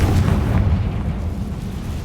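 A Confringo blasting spell bursts in Hogwarts Legacy, a deep, rumbling explosion that fills about two seconds and slowly fades.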